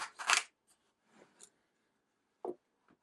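Plastic case of a 46-piece 3/8-inch drive socket set being unlatched and opened: a loud cluster of snapping clicks at the start, then a few softer clacks and a pair of sharp knocks later, close by with no talking.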